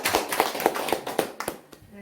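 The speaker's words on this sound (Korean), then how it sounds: "박수 부탁드리겠습니다" A small audience at an elderly-welfare training session claps to welcome a visiting doctor. The claps are sparse and distinct in a loose rhythm, fading toward the end, with faint voices underneath.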